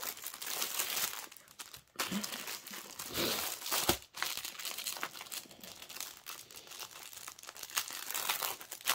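Crinkly plastic packaging of a cross-stitch kit being opened and handled close by, with loud, continuous crumpling and rustling broken by a few brief pauses.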